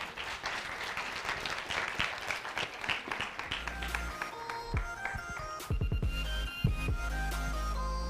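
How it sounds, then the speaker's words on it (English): Applause from a summit audience, a broad crowd of hands clapping continuously at moderate distance, with some thumps and handling noises toward the end. "Big round of applause."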